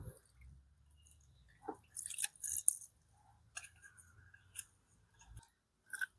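Wet, squishy mashing of Parle-G biscuits soaked in water, being mixed by hand into fish bait for a trap. Soft irregular squelches and drips stand out against quiet surroundings.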